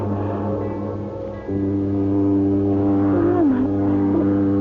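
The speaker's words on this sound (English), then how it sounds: "It's a foghorn, of course." A deep, steady foghorn drones loudly and continuously, a low mournful tone with a brief dip before it swells again and holds.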